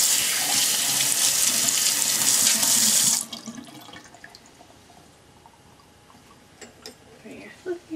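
Water runs loudly from a tap for about three seconds while makeup brushes are washed, then cuts off, leaving quiet handling sounds and faint drips.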